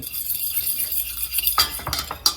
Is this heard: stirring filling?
yes